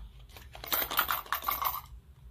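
Small change clatters and jingles as a handful of coins drop onto a hard surface in a theater play, a brief close burst of metallic clinks with no talk.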